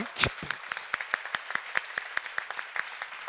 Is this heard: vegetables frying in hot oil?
no